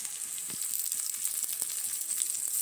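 Curry leaves sizzling as they hit a hot pan with ginger-garlic paste and green chillies for sole bhat, a steady soft crackle and hiss with small pops throughout, no voices.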